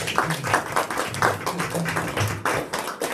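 An audience at a stage hypnosis show gives a round of applause, a loose burst of uneven hand claps of moderate loudness that rises and falls in pulses.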